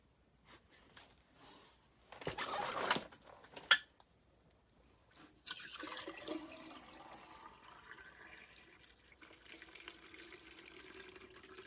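Cold tap water splashes and trickles into a jar in short bursts, then a steady running stream follows, close by with no talking.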